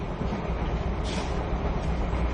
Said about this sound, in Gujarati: આવી અમારી ટ્રેન છે